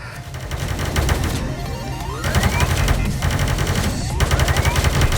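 Rapid blaster gunfire in the VR shooter Space Pirate Trainer, firing in dense continuous bursts with rising electronic sweeps, loud and close, broken by a couple of brief pauses.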